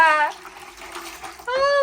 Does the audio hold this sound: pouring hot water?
yes